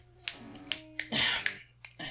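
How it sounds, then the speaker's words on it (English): Finger snapping, six sharp dry snaps spaced irregularly about every half second, close and clear against a quiet background with a faint tonal hum. "that's me snapping my fingers."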